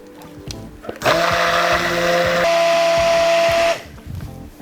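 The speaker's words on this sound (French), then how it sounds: "avec le mixeur plongeant" An immersion blender emulsifying chocolate crémeux in a pouring jug whirs loud and steady for about two and a half seconds, its pitch shifting midway, then cuts off.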